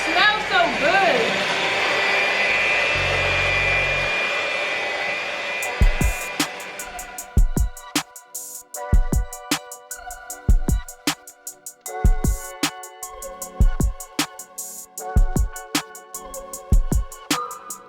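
Vanilla pudding mix being worked into a thick banana pudding pound cake batter: a steady electric mixer whir runs for several seconds, then gives way to sharp, repeated knocking and clatter of the beaters in a heavy bowl.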